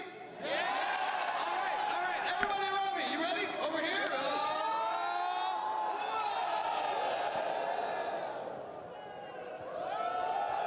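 A big arena crowd of League of Legends fans at the Esports World Cup 2024 semifinal between Team Liquid and T1 roars in a sustained swell of cheers and whoops, dipping briefly before rising again, with nearby talk over it.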